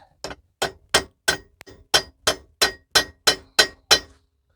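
Ratchet wrench loosening an exhaust bolt on a Ford Flex, a close series of about a dozen sharp, evenly spaced metallic clicks with brief pauses between.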